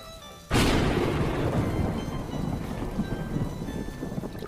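Heavy rain bursts in suddenly and keeps up as a loud, dense, steady roar, with no voices over it.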